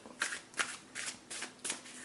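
Tarot cards being shuffled by hand, heard as five soft, papery riffling bursts in a steady rhythm, close and fairly quiet, with no talk over them.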